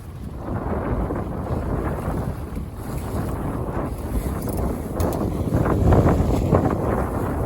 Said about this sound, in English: Powerboat waves, no big deal.